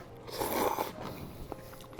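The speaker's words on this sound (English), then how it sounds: "Add in some radish for a bit of a crunch." Crunchy radish being bitten and chewed in a bowl of instant tomato-and-egg noodle soup, a brief close crunch followed by softer chewing, with no talking.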